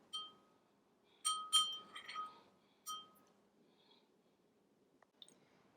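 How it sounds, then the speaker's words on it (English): A spoon gently stirs egg dye mixed with a tablespoon of vegetable oil in a glass container, giving a handful of faint, bright clinks in two short clusters, then near silence. "And stir gently with a spoon."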